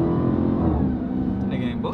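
A Dodge Hellcat SRT engine rumbles loudly and steadily close by, with people talking over it.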